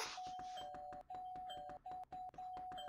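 Electronic doorbell chime in a Hello Kitty video game, a steady ringing tone repeating several times with short gaps over busy background game sound.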